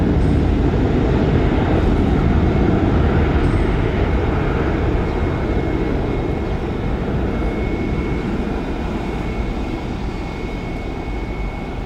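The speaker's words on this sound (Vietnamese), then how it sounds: "Và bây giờ chiếc máy bay cất cánh." A Vietnam Airlines Airbus A321 takes off from Tan Son Nhat airport in Saigon, its jet engines producing a loud, dense, continuous roar that holds steady and very slowly eases, with no voices.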